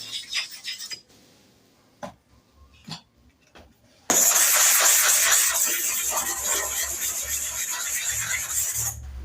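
A clipper blade is scraped over a super hard sharpening stone, a few short rasps and taps at first, then a long, loud, continuous hissing grind that lasts to the end.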